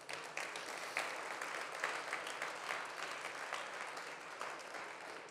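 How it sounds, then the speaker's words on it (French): Steady audience applause at a GL events trade show gathering, many hands clapping together at moderate distance, with a few sharper claps standing out in the continuous wash. "on peut applaudir véritablement leur travail quotidien"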